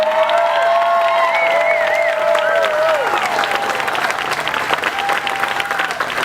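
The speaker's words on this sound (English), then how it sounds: "Let's have another big round of applause for Jamie Beyerle-Gray." Audience applause and cheering at a county celebration honoring a Pennsylvania guest, a loud, sustained wash of clapping with whoops and high shouted cheers rising over it, fairly close.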